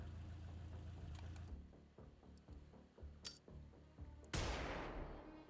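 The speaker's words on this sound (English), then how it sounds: "So this guy's going to throw a flashbang right here." A flashbang thrown in the video game Xenonauts 2, heard as a sharp loud burst near the end after a sequence of softer clicks and thuds, with no talk.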